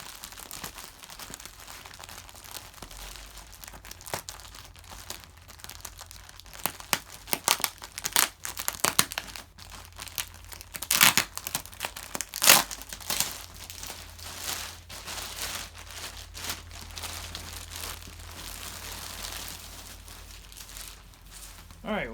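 Plastic packaging crinkles and rustles as a Katabatic Flex 15 quilt is unpacked, close and busy with bursts of crumpling and tearing, while someone talks intermittently.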